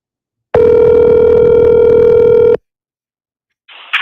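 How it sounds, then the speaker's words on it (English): Ringback tone on a telephone call: one loud, steady electronic tone lasting about two seconds, then silence, then the start of another sound at the end. "Can you guys hear the ringing?"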